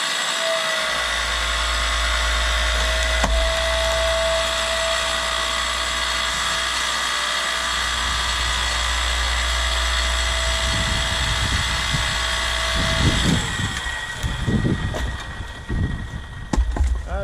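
A hydraulic log splitter whines steadily and loudly for a long stretch, then gives way to cracking and creaking wood near the end.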